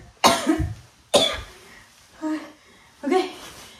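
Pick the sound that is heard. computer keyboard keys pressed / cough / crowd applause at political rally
cough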